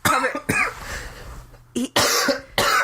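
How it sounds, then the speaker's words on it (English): Three or four harsh, close coughs burst out in quick succession, separated by short pauses, with a throaty rasp in between. "Oh my goodness, I'm about to cough."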